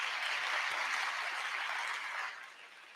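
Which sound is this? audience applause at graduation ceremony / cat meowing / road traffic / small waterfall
audience applause at graduation ceremony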